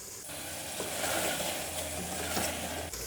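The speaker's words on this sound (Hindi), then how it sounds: "मसाले को हम 2 से 3 मिनट भून लेंगे।" Spices frying in oil for degi balti gosht, a steady close sizzle with light stirring scrapes running throughout, no voices.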